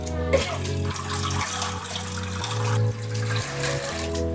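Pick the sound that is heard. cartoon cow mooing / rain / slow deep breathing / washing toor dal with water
washing toor dal with water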